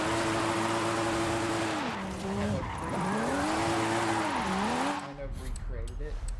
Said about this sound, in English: It drifts just the way you want it to drift. It's going around corners, the back tires are smoking